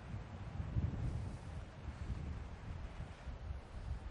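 Wind buffets a microphone outdoors at the coast near Point Lonsdale Lighthouse, a steady low rumbling roar with soft gusting swells, fairly faint overall and with no talking.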